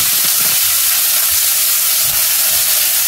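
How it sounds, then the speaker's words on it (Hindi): A tablespoon of garlic hits a tablespoon of hot oil in a pan, producing a loud, dense, unbroken hiss and sizzle up close, with faint low knocks underneath. "यहाँ हमने पैन के अंदर 1 टेबलस्पून ऑयल लिया है और उसके अंदर हम शामिल करेंगे 1 टेबलस्पून लहसुन"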